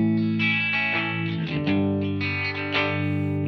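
Electric guitar through a SolidGold FX Aurras Optical Vibraphase pedal, chords ringing steadily with the pulsing modulation quickening as the speed rises, close and alone without talk.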